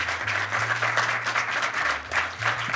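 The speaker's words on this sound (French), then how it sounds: "merci au public, on peut les applaudir" Audience applause at a French-language live music show, a dense, steady clatter of many hands clapping together, close and loud with a low hum beneath.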